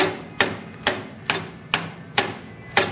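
A hammer strikes curved sheet metal on the wheel arch of a Ford Cortina GXL under restoration, six sharp metallic blows in an even rhythm about half a second apart, close and alone.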